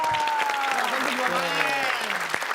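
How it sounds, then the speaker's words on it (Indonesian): Studio audience applause on an Indonesian comedy talk show, a steady clapping wash under a host's voice and swooping tonal sound effects, fairly loud and continuous. "kasih tepuk tangan dulu dong"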